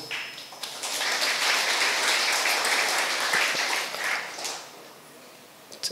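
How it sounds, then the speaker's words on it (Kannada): An audience at a speech in a college hall breaks into loud applause that swells quickly, holds steady for several seconds of dense clapping, then thins out and fades. "ಒಂದು ಜೋರಾದ ಚಪ್ಪಾಳೆ ಕೊಡಬಹುದಾ?"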